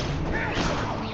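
Accio summoning spell in a Harry Potter video game, a brief muffled thud and whoosh lasting about a second, with a voice blended into the effect.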